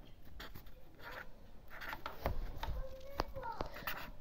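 A pen scratching across paper as someone writes out step-by-step instructions for a small turtle craft, with short scribbling strokes spread through the clip and quiet talk nearby.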